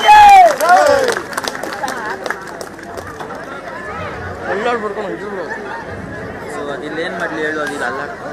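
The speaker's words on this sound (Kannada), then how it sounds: "ನಿಮ್ಮೆಲ್ಲರ ಜೋರಾದ ಚಪ್ಪಾಳೆಯೊಂದಿಗೆ ಅವರು ಕೂಡ ಸ್ವಾಗತ ಬಯಸೋಣ." Crowd at a party joining event in Ravindra Nagar, Mallasandra ward, clapping to welcome guests onto stage, a loud burst at first that settles into steady applause mixed with chatter and talk.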